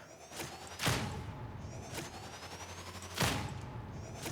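Helbore lasgun shots fired by a Veteran sniper in Warhammer 40K: Darktide, three sharp, loud cracks spaced about a second or more apart, each with a short ringing tail over a low background hum.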